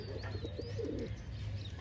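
White Patiyale pigeons coo softly in a short throaty burst, faint and somewhat distant, over a low background hum with a thin bird chirp.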